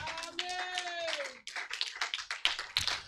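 Congregation at a Kinshasa church seminar clapping to acclaim Jesus, brisk rhythmic hand claps under a sustained sung or shouted voice, then a pause and a looser run of claps.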